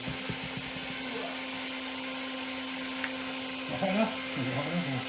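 A heat gun blows hot air onto a carbon fiber wrap on a bike, a steady close whirring hum with a fixed tone throughout, while someone talks briefly near the end.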